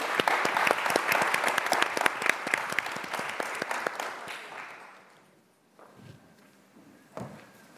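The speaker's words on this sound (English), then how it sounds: "let's give them a hand of applause." An audience at a technology and sustainability conference applauds the panelists with dense clapping that fades out after about five seconds, followed by near silence and a few faint sounds.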